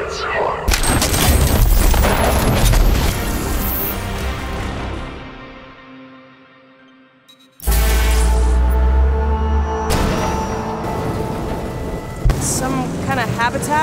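Automated sentry tower turret in the video game Rage 2 firing loud, dense bursts of gunfire with heavy booms, dropping to a brief quiet lull before a sudden loud resumption of shooting and rumbling action.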